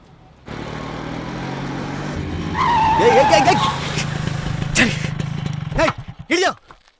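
In a radio-drama scene, a car engine revs up and its tires squeal loudly in a long skid during a near collision, followed by short bursts of engine noise and screeching.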